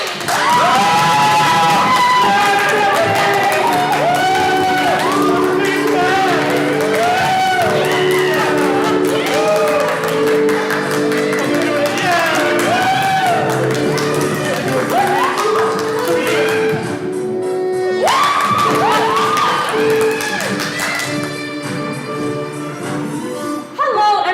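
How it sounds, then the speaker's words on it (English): A theatre audience at a college stage production erupts in loud, sustained cheering, whooping and shouting for the host, with a dense crowd roar that dips briefly before surging again. "give a huge round of applause for our host, Stephanie Harvey"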